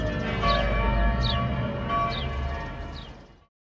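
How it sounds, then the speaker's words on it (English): Church bells rung by bell ringers at practice in an East Devon village peal from a distance, a few spaced strikes ringing out over a low steady rumble before fading away. "I think that's the Yarkham bell ringers having a practice."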